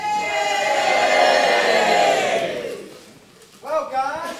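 A saloon crowd in a video game cheers and hollers together in a loud burst that swells, then fades away, followed by a short spoken line.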